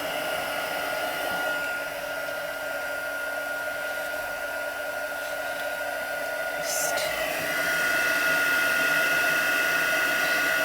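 A handheld heat tool blows a steady, fairly loud whirring hiss while melting embossing powder on small faux-metal craft pieces, the tone shifting slightly partway through as a person talks over it.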